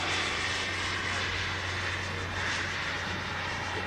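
Boomerang Nano RC jet powered by a Kingtech K60G turbine making a gear-down pass, a steady turbine hiss and whine held at moderate distance with no talk over it.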